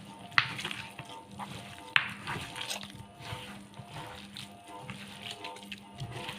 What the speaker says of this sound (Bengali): এবার আমি ভালো করে মিক্স করে নেব এগুলা